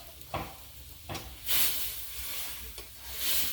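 A taro and prawn curry, seasoned with sugar and salt, is stirred in a hot pan, making a moderate sizzling hiss broken by a few soft scraping strokes of the spoon.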